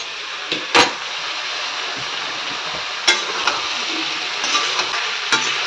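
Potatoes fry in a pan with a steady, close sizzling hiss, broken by a few sharp knocks and scrapes from a utensil against the pan.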